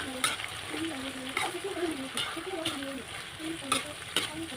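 Sizzling stir-fry dish with oyster sauce just added, stirred in a pan with repeated scraping strokes of the spatula over a constant close frying hiss.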